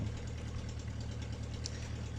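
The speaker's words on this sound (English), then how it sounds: "Now that we got the engine to start" An old MG car engine, first started after sitting for 22 years, idling with a low, steady rumble and faint rhythmic knocking, continuous throughout.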